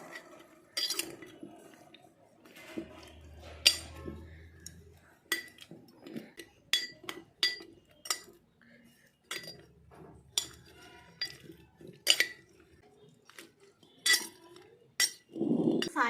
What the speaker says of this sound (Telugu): గరిటతో పైనుంచి కింద కలుపుకోవాలి.